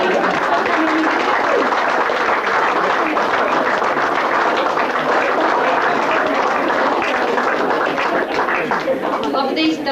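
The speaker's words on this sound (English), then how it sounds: "Would you like to give all the committee a round of applause?" Reunion guests applaud the organizing committee, a dense, steady round of clapping from a crowd that fills the room and carries on for about ten seconds with murmured chatter mixed in.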